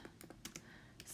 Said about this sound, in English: I'm having all kinds of issues typing with one hand